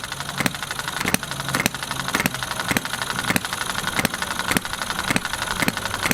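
A red Enjomor engine fitted with a low-compression modification runs steadily, its rapid mechanical beat joined by a sharp periodic knock roughly every half second, loud and close with no talking.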